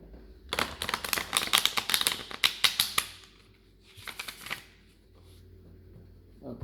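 Close, brisk riffling of a tarot deck: rapid papery clatters for a few seconds, a pause, then a shorter second burst and a final flick, with no voices over it.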